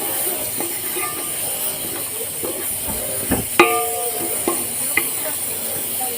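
Long-grain biryani rice cooks in a pot on the stove, giving a steady hiss and sizzle with a few sharp clinks and stirring knocks standing out near the end.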